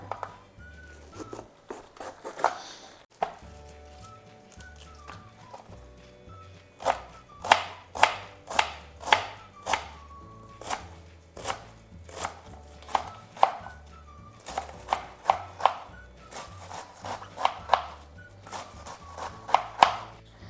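Cabbage being finely chopped with a cutter in a home kitchen, a steady run of sharp, close chopping strikes in rhythmic bursts over quiet background music.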